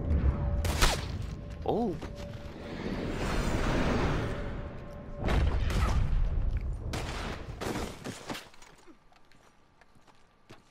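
Gunfire from a multiplayer video game match, with several sharp broadband shots scattered through a noisy stretch of game sound, while a voice briefly exclaims.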